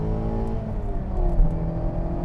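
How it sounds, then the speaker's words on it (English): A Mazda MX-5 ND's four-cylinder engine drones steadily at high revs, the harmonic pitch climbing a little, loud and close with no talking over it. "Just one last time on the sound of that engine."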